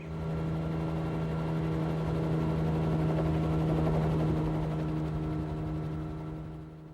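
A helicopter drones steadily throughout with a constant low rotor hum and engine whine, loud and close, easing off slightly at the very end.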